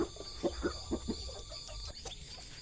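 Chickens in a backyard coop: a run of short, evenly spaced clucks from a rooster with newly hatched chicks, close by over a faint steady background hum, with no talking.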